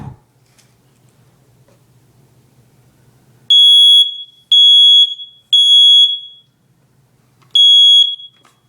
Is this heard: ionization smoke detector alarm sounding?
yes